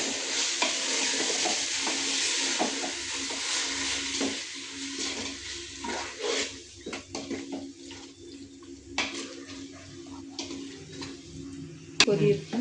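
Masala for chicken dum biryani is stirred in a pot, with a soft continuous sizzle and irregular scraping and wet mixing sounds, close by, ending in a sharper clatter.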